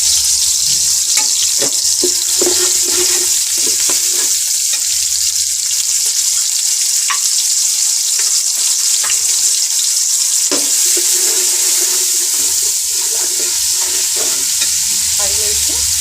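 Garlic, ginger, garam masala and white cumin sizzle and fry in a pan, with steady stirring scrapes over a constant hiss that lasts throughout, loud and close.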